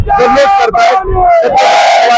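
At a Maratha Kranti Morcha protest celebration, a large crowd loudly and closely chants the slogan Jai Bhavani Jai Shivaji in rhythmic, overlapping bursts of massed voices.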